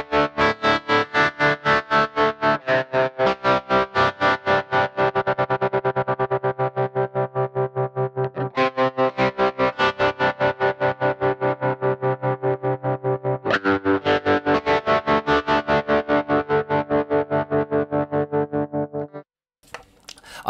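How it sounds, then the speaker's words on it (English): Electric guitar through a Boss Katana amp with a tremolo effect in the effects loop: loud, distorted chords pulsing in a steady, rapid on-off throb for about twenty seconds, shifting chords a few times before stopping abruptly. "you can just about hear the tremolo effect in the background"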